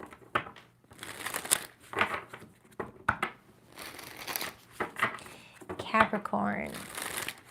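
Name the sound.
shuffling tarot cards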